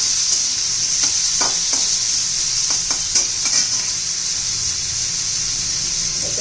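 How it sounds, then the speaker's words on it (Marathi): Potato pieces being stir-fried in hot oil for a fenugreek-leaf dish, a steady bright sizzle throughout with several soft scraping stirs of a spatula, close and loud, no talking. "ह्या तेलामध्ये बटाटा पण असा परतून घ्यायचं"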